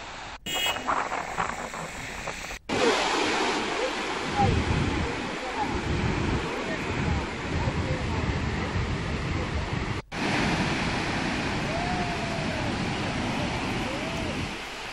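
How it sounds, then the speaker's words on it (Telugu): Floodwater roaring through the 26 raised crest gates of the full Nagarjuna Sagar dam, a continuous loud rushing wash with wind buffeting the microphone, broken by two brief cuts between shots. "ప్రాజెక్టు 26 గేట్లు ఎత్తి నీటిని దిగువకు విడుదల చేస్తున్నారు."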